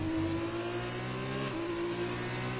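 Race car engine in a racing game holding a steady high drone, then the pitch drops as the driver lifts off the throttle, loud and continuous with no talk.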